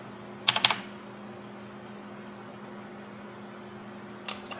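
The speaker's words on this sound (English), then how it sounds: "And I am just trying out" Someone types on a mechanical keyboard: a quick, clattery flurry of keystrokes near the start and a single short tap near the end, close and crisp over a steady hum, with no voices.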